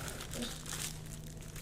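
A Hawaii sticker gets handled up close. Its paper or plastic backing gives a soft, continuous crinkling and rustling, faint and steady, with no one talking.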